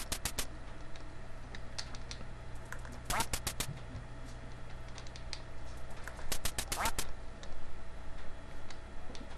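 Several rapid bursts of duck quacks from a video game, arriving in clusters over a steady background hum, with light keyboard or button tapping between them.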